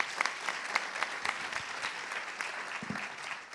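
Audience at a French chamber of commerce presentation breaking into sustained applause, a dense, steady patter of many hands clapping that holds for several seconds and begins to thin at the end.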